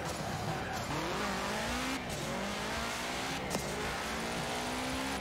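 A pink Subaru racing in Forza Horizon 4, engine droning and rising through gear changes with tire squeal, loud and steady over the whole stretch.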